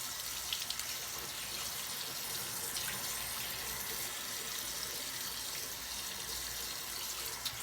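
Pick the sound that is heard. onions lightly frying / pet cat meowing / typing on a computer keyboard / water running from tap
water running from tap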